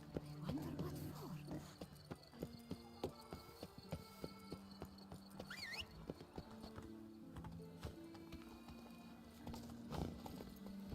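Roach the horse gallops in The Witcher 3, a steady, close run of clip-clop hoofbeats with a brief whinny amid game music and effects.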